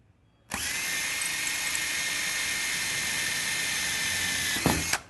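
Power drill boring pilot holes for a TV wall mount, a steady high whine from start to finish lasting several seconds, close and alone before cutting off abruptly.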